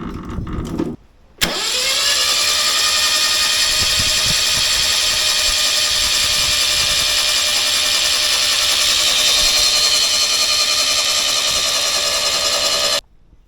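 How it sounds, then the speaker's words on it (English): A Toyota Hilux 18R petrol engine cranks over steadily for about twelve seconds to prime, a loud continuous whirring drone with no talk, after a brief burst of sound and a short silence at the start. "And we'll just crank it and let it prime."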